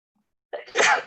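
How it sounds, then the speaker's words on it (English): A single sharp sneeze from a woman at a virtual floral painting session, close and loud against near silence, with a brief intake before the burst. "Sorry, and I'm about to sneeze."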